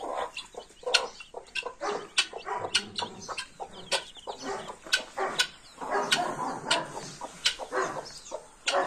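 Aseel chickens clucking close by, a busy run of sharp, irregular clucks and squawks from several birds, fairly loud and with no talk.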